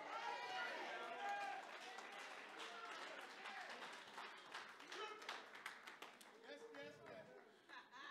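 Church congregation giving a round of applause, scattered claps and cheering building then thinning out, with voices talking and calling out throughout.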